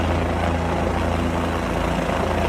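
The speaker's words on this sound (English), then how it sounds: "The helicopter over the field," A helicopter hovers over a college football field, a loud, continuous, dense rotor and engine roar with no break and no talk.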